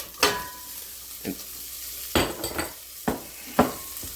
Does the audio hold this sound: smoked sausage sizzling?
yes